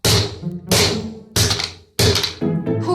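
Four or five heavy, hard hammer blows smash a phone in a steady rhythm, each a sharp crack with a clattering thud, close and loud.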